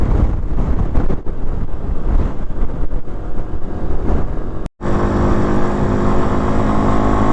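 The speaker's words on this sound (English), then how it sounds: "Geez, that wind, like when you get exposed to that wind" Strong wind buffets the microphone on a Honda CT110 rider cruising the Great Ocean Road: a loud, steady roar that breaks off for an instant and then resumes just as heavily, with no talk.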